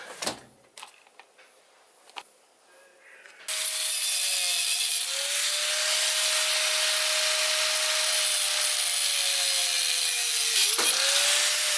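A piece for a Ford Fiesta MK6 bucket seat mount is cut after a few light clanks, with a loud, continuous harsh cutting noise running steadily close by.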